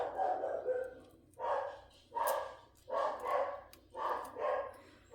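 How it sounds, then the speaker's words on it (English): A neighbor's dog barks repeatedly from somewhat far off, about six moderately loud barks in an uneven rhythm, over a low steady background hum, with no talking. "And it's going to get the neighbor dog going."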